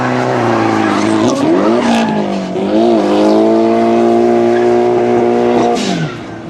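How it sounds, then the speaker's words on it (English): At a drift competition qualifier, a car's loud engine drone rises and falls while the tires let out a sustained squeal, heard steadily over several seconds before fading at the end. "Clutch kicks initiation technique from the right angle, followed by a beautiful plow understeer as he gets nothing going."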